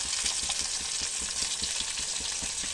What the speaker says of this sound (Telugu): ఫ్రై చేస్తున్నానండి